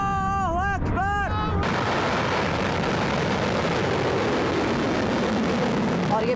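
A roaring, sustained rumble of a missile in flight after launch, loud and continuous throughout; a brief burst of wavering tones sounds at the very start before the roar takes over.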